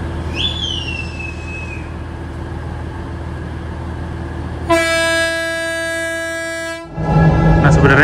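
A train rolls past a level crossing on a city street, its rumble steady under traffic noise, while a loud multi-tone horn sounds for about two seconds midway before heavier rumbling resumes close by.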